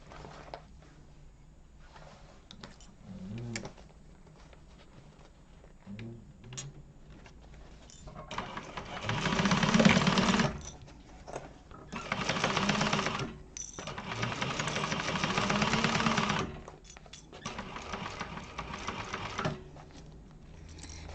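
A sewing machine stitches a topstitch in several bursts of rapid, even needle chatter, close and fairly loud, separated by brief pauses and lighter handling clicks.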